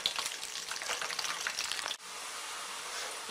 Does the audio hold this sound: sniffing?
no